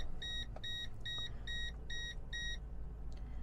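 A 1997 Mercedes E420 sounds six quick, bright warning beeps in an even rhythm just after starting, over a faint low idle hum, then falls quiet.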